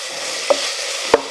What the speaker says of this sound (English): Let's stir that bacon around. Can you hear it sizzling?